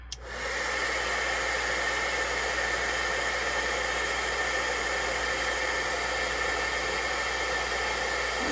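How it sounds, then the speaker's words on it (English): A heat embossing tool blows hot air over a stamped card, giving a steady, loud broadband whoosh that starts abruptly and holds without a break. "I'm going to grab my heat emboss tool, and I'm going to make some noise."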